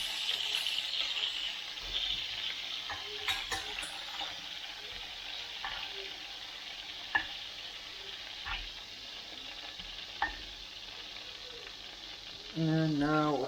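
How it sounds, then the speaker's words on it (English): Onions sautéing in a pan during home meal prep, a steady soft sizzle with scattered clicks and stirring clatter, and a louder burst of frying near the end. "And now we'll just saute some onions."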